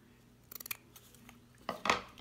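Scissors snip grosgrain ribbon in a quick run of small close cuts, followed after a pause by a couple of louder snips, quiet and alone.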